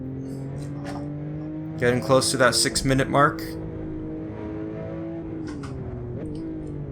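A Porsche 911 Turbo S in a racing game climbs the Tajo hillclimb under full power, its engine a steady rising drone with a brief burst of louder, rougher revving in the middle, while someone talks over it.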